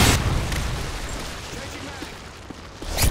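A Predator missile strike in Modern Warfare 2, during a Search and Destroy round on Skidrow, lands as a heavy booming blast followed by low rumbling debris, with a second sharp burst near the end.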